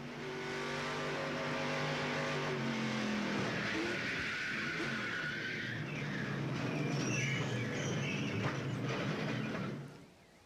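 NASCAR race car engines roar and rev loudly at the 1996 Coca-Cola 200, then crunching, scraping impacts and skidding as cars collide, with the noise continuing for several seconds before cutting off.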